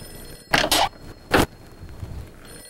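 A telephone rings indoors in two short, bright bursts separated by a pause, with a quiet room tone before and after, during a domestic drama scene.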